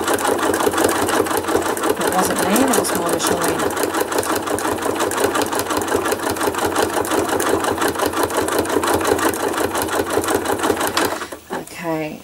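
A sewing machine stitches thread-art leaves onto a photo, a loud, fast, steady mechanical whirring and needle rattle running close and continuous before it slows and stops near the end.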